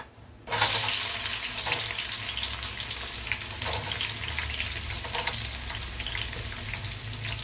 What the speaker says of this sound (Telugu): ఉల్లిపాయలు కాస్త బాగా వేగాలి.